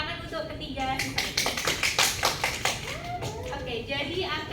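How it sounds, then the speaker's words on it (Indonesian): Students in a classroom clap for three classmates, a ragged burst of hand claps close by, mixed with children's chatter throughout. "Mungkin beri tepuk tangan untuk ketiga siswa."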